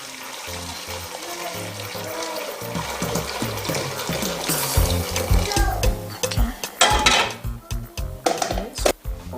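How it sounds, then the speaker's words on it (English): Pigeon peas being washed in a pot of water: sloshing, stirring and splashing close by, growing busier and more rhythmic as the hands work the peas, with occasional clinks from the pot. "While I wash the pigeon pea, I've already picked the stone from it."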